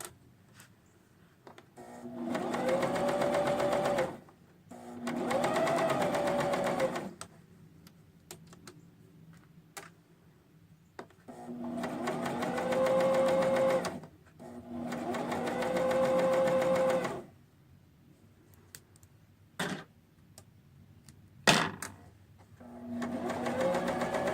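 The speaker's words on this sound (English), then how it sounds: "And then to lock the stitch, I go over my original starting point, just a couple stitches, and it locks the serger" A serger sewing machine stitches a neckband in several close, loud runs of rapid mechanical whirring, each lasting a few seconds and separated by quiet pauses with small clicks and handling sounds.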